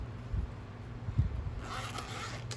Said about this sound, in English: let me unzip all of these.